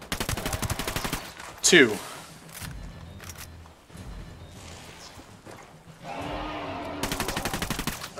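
Automatic gunfire from the Predator video game opens and closes the stretch in rapid, fairly loud bursts, with a brief voice and some ambient game noise in between.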